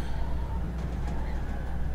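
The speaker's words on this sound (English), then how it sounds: "Oh, it's an actual owl." An owl in the video game Life Is Strange: Episode 4 gives soft, low hooting calls over a steady ambient hum, moderately close and fairly quiet.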